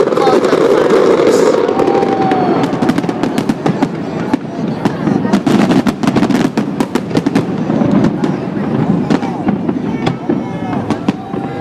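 Fireworks in a Minecraft-style game New Year show, with rapid, loud crackling bangs and pops that keep overlapping through the clip alongside a whooshing launch at the start.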